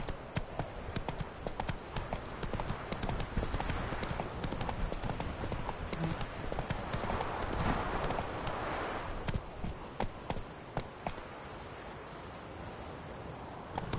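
Hooves of Geralt's horse Roach galloping in The Witcher 3, a fast, steady clip-clop drumming over wind and rustling ambience, continuous and fairly loud, easing slightly toward the end.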